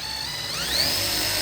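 A 9mm drill bit boring a hole for a door lock, heard as one steady continuous whine that rises in pitch partway through, close and alone with no talk.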